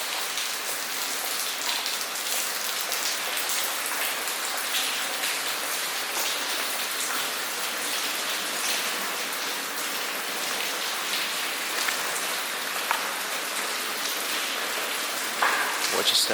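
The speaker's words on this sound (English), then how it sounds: "as you can probably hear, the place is leaking a lot over here" Water leaks and drips steadily inside an abandoned ice cream factory, making a continuous hissing patter like rain on surfaces. It stays at an even, moderate level throughout, with a few sharper drops standing out.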